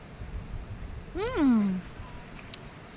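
Cat giving a single clear drawn-out meow, close and fairly loud, rising then falling over about half a second against quiet outdoor background.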